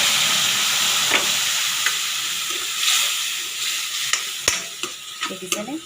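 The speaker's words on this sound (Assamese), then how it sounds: "লৰাই লোৱাৰ পাছত এনেকৈ কেৰাহীত দি দিব।" Mashed lentil and banana peel paste frying in a wok: a steady, loud sizzle broken by sharp scraping and clattering strokes as it is stirred, with no voices.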